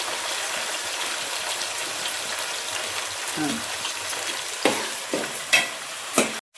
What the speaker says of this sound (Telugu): ఇప్పుడు మనం పుదీనా టమాటా వేసుకున్నాం కదా ఫ్రెండ్స్, వేగిపోయినాయి